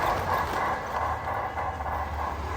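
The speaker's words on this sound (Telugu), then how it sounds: "చూసినా నాన్న ట్రైన్" A train rolls past near a village, a steady, loud rumbling clatter of wagons holding evenly throughout the short stretch.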